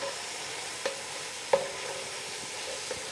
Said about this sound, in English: we're just trying to sweat them